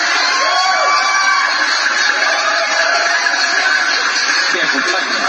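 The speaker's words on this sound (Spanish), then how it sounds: "Así que le mandamos un fuerte aplauso para esta maravillosa agrupación." Crowd cheering and applauding for a musical group at a live evening radio-style music show, a steady, loud wash of noise filling the whole stretch with no clear break.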